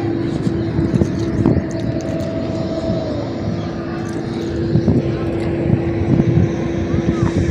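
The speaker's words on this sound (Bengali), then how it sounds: "কাকার নৌকায় আমরা চলেছি।" Boat motor on the Ganges near Kalna, a steady low drone running continuously throughout with a sustained hum, heard up close alongside wind and water noise, with people talking over it.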